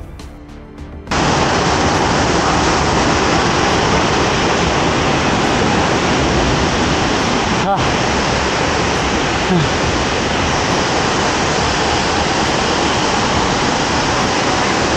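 A waterfall on the hiking trail to Lubuk Hitam roars loud and close, a steady broadband rush that starts abruptly after a brief quieter moment and then continues unbroken.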